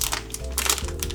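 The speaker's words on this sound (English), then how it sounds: "Gotta love a clear plastic bag." Close, crisp crinkling of thin plastic in short bursts, sharp rustles coming and going for about a second.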